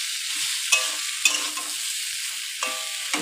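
Spices frying in a pan at a soft, steady sizzle, with a few sharp clinks and scrapes of a spoon against the pan, no talking.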